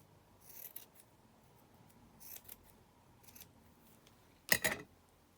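Scissors snip through lace scraps in a few separate quiet cuts, with the last one sharper and louder, heard close up in a hushed room with no talking.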